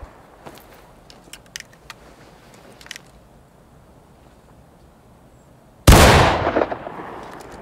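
Musket volley rifle fire in War of Rights, an American Civil War skirmish training drill: faint scattered pops and clicks, then one loud, sudden massed volley that rolls and echoes out over a couple of seconds.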